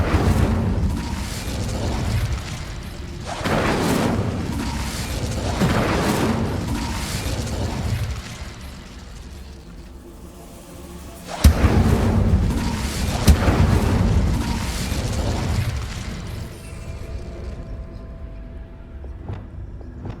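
The Incendio fire spell is cast in Hogwarts Legacy, inside a haunted Hogsmeade shop, producing deep rumbling whooshes and booming bursts that swell and fade in several waves, with a sharp crack partway through.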